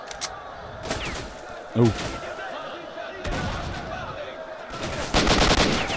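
Gunfire in the S.T.A.L.K.E.R. video game cracks out in several separate bursts and single shots, some loud and close, with a brief spoken exclamation between them.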